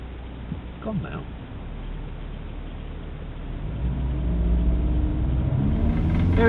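A steady engine rumble inside a new Hyundai i40 rises in revs with a low droning vibration, heard faintly behind a voice talking near the start.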